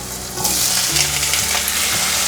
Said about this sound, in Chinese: 现在放入红甜椒，快速的翻炒